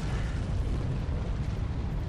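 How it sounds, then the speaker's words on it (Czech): A meteor crashing and exploding in the Neverwinter beta video game makes a dense, roaring rumble that stays loud and unbroken for about two seconds. "Tady padají nějaký meteory nebo něco, ano."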